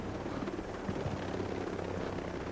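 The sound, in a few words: helicopter in video game Ghost Recon Breakpoint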